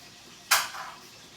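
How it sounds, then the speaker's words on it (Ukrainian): Cooking oil is poured into a pan beside onion stuffed with anchovies, a short close splash and trickle that fades quickly. "І залиємо олію."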